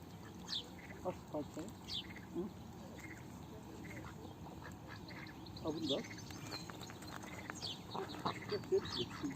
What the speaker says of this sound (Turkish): Bir tane siyah ördek, üç tane beyaz ördek,